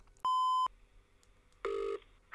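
Two bursts of telephone keypad dialing tones, each a steady electronic beep lasting under half a second, separated by a short quiet gap, clear and close, as a call is placed to a KFC restaurant.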